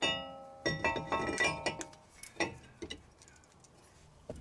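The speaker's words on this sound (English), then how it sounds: "And now you can install the new rotor." A new brake rotor being fitted onto a car's greased wheel hub, with a cluster of close metallic clinks and light knocks, then sparser taps trailing off.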